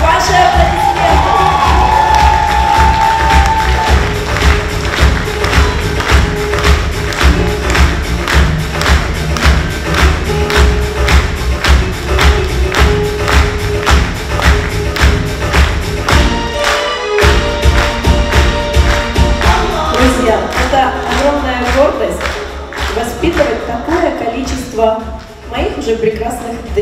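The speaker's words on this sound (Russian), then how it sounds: "Прошу, ваши аплодисменты." A concert audience at an oriental dance studio's anniversary show bursts into loud, sustained applause with cheering and whoops, rhythmic clapping throughout and a voice speaking near the end as it subsides.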